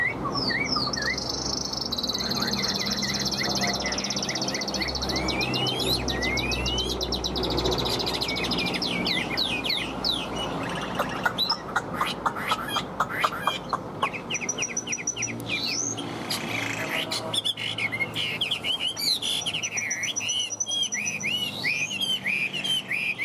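A tame songbird with yellow feet, yellow beak, blue eyes and yellow plumage sings close by, delivering rapid repeated chirps, trills and bright whistled phrases in bursts over a steady background hum.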